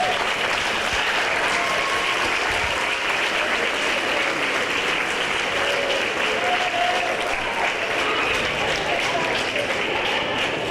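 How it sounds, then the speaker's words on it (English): Graduates at an adult education graduation applaud their families and friends, a dense, continuous roar of clapping from a large crowd, loud and even from start to finish. "give a round of applause to your family and friends who have supported you through your journey"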